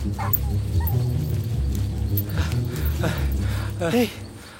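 A dog barks and yelps, ending in a burst of high whimpering cries near the close, heard over constant background music and voices in a Tamil film scene.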